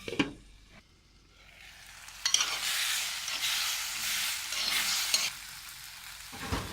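Tomatoes with salt cooking in a pan for a restaurant-style fish curry, a steady hiss of sizzling broken by a few clinks and stirring scrapes, close by with no talking.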